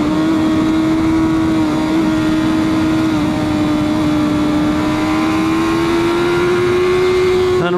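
A car engine drones steadily after downshifting on Monte Cristo Road in Utah, the driver easing off the gas so the tone holds a low, even hum with slight pitch drift, loud and continuous with wind and road noise.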